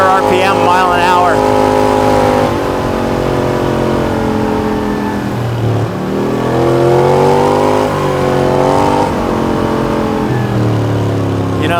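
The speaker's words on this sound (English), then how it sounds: "as you hold it wide open, it's definitely a big bike with a big sound" A Polaris Sportsman High Lifter ATV fitted with an MBRP 5-inch Performance Series slip-on exhaust revs on a trail ride, its loud engine note rising and falling as the throttle is modulated and held open, with a voice talking over it.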